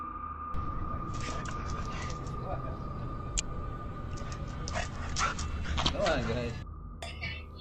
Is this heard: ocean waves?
no